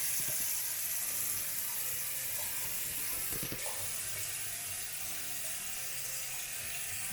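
Water running from a tap into a sink while skincare product is washed off a face, a steady close hiss with a few splashes and hand movements.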